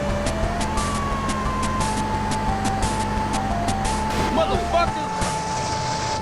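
A police car siren in the video game GTA San Andreas wails as a steady, high, sustained tone over engine and traffic rumble, loud and close, with talk overlapping at times.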